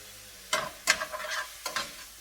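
Gyro bowl ingredients seasoned with dill and paprika being sautéed in a pan, three sharp bursts of sizzle as the food is stirred and tossed, with a soft crackle between them.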